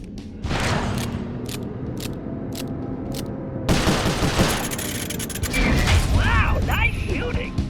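Gunfire rattles through a mine escape in the Sly Cooper: Thieves in Time video game, in loud bursts and volleys mixed with mechanical clanks, creaks and character voices, growing denser in the second half.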